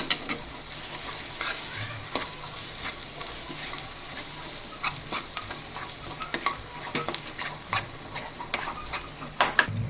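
Matar roll filling of mashed peas being stirred in a hot pan, with a steady sizzle and repeated scraping strokes of a spoon across the metal, close and fairly loud, and no voices.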